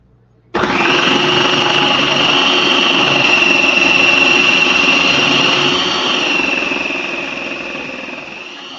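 An electric food grinder chops cucumbers for relish, starting abruptly with a loud, continuous whirring motor drone that holds steady and then eases slightly toward the end.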